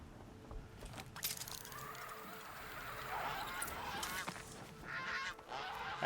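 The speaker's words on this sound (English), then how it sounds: "Bye-bye, geese." Geese honk repeatedly in the video game Horizon Zero Dawn, a cluster of loud, overlapping calls rising over steady outdoor ambience and swelling toward the end.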